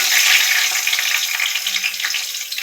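Black cumin seeds and bay leaves sizzle steadily in hot oil, a bright continuous frying hiss with faint crackles and a brief stir, close and alone with no talk.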